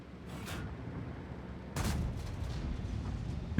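A tank gun firing in the World of Tanks video game, one loud booming shot near the middle followed by a rumbling tail over steady engine noise, with a fainter earlier report.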